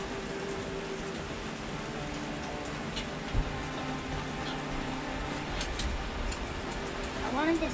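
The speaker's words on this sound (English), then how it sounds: "It's raining" Steady rain falls at a campground at Ichetucknee Springs in Fort White, Florida, a soft continuous patter beneath nearby talking.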